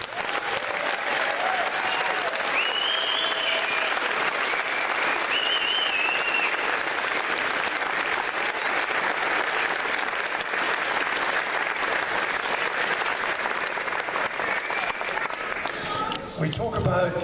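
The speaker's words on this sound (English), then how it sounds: "giving another round of applause to what has been an absolutely outstanding cast and a wonderful show" Long, loud, continuous audience applause for the cast of a primary school Christmas show, with scattered cheers and whoops rising above the crowd's clapping, tapering slightly near the end.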